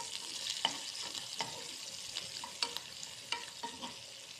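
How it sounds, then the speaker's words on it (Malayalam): Ginger, green chilli, garlic and curry leaves sautéing in coconut oil in a pan: a faint, steady sizzle broken by scattered light clicks and scrapes of stirring, with no talk. "ഇനി നമുക്ക് അതേ ചട്ടിയിലേക്ക് കുറച്ച് വെളിച്ചെണ്ണ ഒഴിച്ച് കൊടുത്തിട്ട് നമ്മൾ അരിഞ്ഞ് വെച്ച ഇഞ്ചി, പച്ചമുളക്, വെളുത്തുള്ളി, കറിവേപ്പിലേക്ക് ഇട്ട് കൊടുക്കാം"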